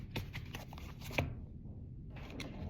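Playing cards are shuffled nearby in a quick riffle of flutters and snaps, ending in a brief pause and a few softer taps.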